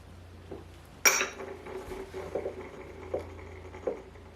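Glycerin is stirred into a DIY dry hair serum, with a sharp clink of a utensil against a glass container followed by several soft taps and scrapes of stirring, close and quiet.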